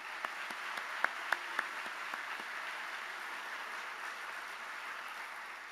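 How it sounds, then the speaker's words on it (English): A round of applause from an audience at a University of Texas at Austin event, a faint, steady wash of many clapping hands with a few sharper individual claps early on. "How about a round of applause for them?"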